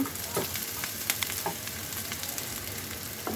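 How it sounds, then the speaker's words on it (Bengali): Fish cooking with mustard in a pan, a steady, fairly faint crackling sizzle throughout with a few sharper pops and light utensil touches. "এখানে আমি ঢেঁড়স ভাজি করব আর এখানে মাছ রান্না হচ্ছে"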